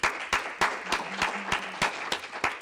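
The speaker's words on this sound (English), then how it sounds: "Let's give Dan another round of applause." Audience applause at an evening talk, a steady round of clapping with sharp hand claps standing out, moderately loud and continuous for a couple of seconds with no voices over it.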